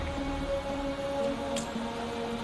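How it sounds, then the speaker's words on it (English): Rain pouring steadily in the video game Wuthering Waves, a constant broadband wash of falling drops with soft music tones underneath and one brief brighter splash, no voices. "Hey, you see? The raindrops. They're falling up."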